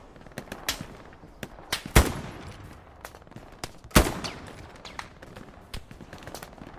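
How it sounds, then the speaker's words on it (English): Gunfire in the World War II shooter Hell Let Loose: scattered distant rifle shots and short bursts crack irregularly, with two louder, closer reports standing out against a low battlefield rumble. "Someone shooting."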